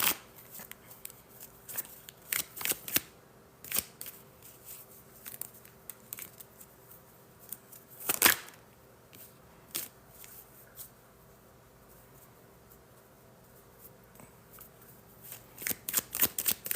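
Tarot cards being shuffled by hand in repeated crisp riffling bursts, close and fairly loud, with quiet pauses in between and no talking.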